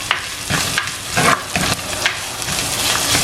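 Dried red chillies sauté in a pan for sambar, a steady close sizzle with repeated stirring scrapes throughout.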